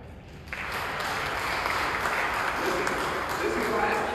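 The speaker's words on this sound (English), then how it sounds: "You can clap right there." A church congregation at a Sunday service claps steadily, a broad continuous wash of many hands at a moderate distance, with some voices mixed in underneath.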